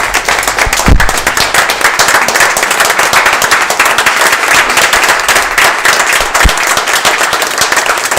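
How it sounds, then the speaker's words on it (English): A municipal commission meeting audience applauds an honoree for 25 years of public safety service, loud close-up clapping from a crowd, dense and steady throughout, with a couple of sharper individual claps standing out. "would give him a big round of applause for 25 years of service."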